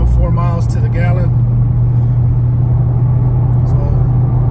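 A 2021 Dodge Charger Scatpack cruising in four-cylinder mode gives a steady, loud low engine drone and road rumble inside the cabin, with someone talking briefly over it near the start.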